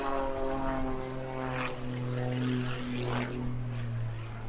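A heavily modified propeller aircraft with added thrust from two Lynx jet turbines flies at the English Riviera Airshow, its steady humming propeller drone holding throughout with a slight swell, heard at a moderate distance with no talk.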